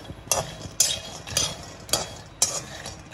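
Peanuts dry-roasting in a pan for homemade groundnut chikki, stirred with about six evenly spaced scraping strokes over a soft steady background, close and clear, with no talking.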